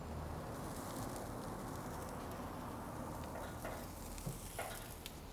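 Vegetable skewers of squash, peppers and onions sizzle on a hot grill, a steady frying crackle with a few small pops near the end.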